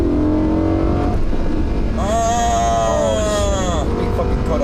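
A high-value exotic car accelerating hard, engine note rising loud and close through the gears with a climbing whine, voices heard briefly over it.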